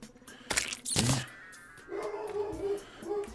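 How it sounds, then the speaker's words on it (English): Several dogs bark and yip in short bursts, two sharp loud barks up front followed by softer whimpering and yelping sounds that continue through the rest. "Oh yeah, sorry about the dogs, guys."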